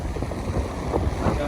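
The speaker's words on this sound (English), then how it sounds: "There's wind about to blow my lashes off" Gusty wind buffets the microphone at an Ocean City beach, a rough, fluttering low rumble that lasts the whole brief moment with no clear voice.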